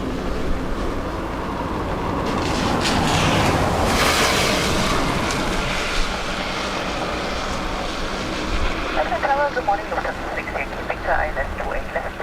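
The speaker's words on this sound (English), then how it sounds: "That was a car kicking up a puddle from the road." A car kicks up a road puddle near Dublin Airport on a wet day: a broad rushing splash swells and fades over a few seconds, followed by a quieter stretch with scattered tonal sounds.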